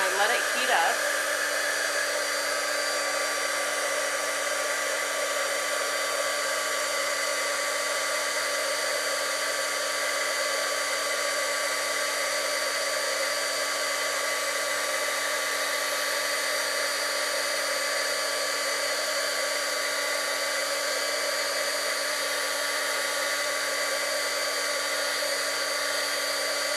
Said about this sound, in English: I just take a pair of tweezers and grab my heat gun